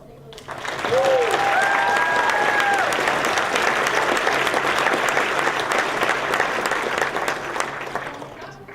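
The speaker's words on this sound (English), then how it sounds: "Give them a huge round of applause" A concert audience breaks into sustained, dense applause that swells quickly and holds loud before slowly thinning, with a voice and a whistle briefly audible at the start.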